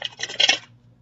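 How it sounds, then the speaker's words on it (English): Tarot cards being shuffled in one short riffling, scratchy burst lasting about half a second, close by, then falling to quiet. "One more shuffle, and then I'll cut for you."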